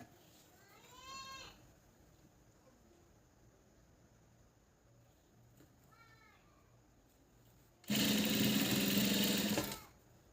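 An electric sewing machine stitches a double-folded hem on Patiala pants in one loud, steady burst of about two seconds, preceded by quieter background sounds and short faint squeaky calls.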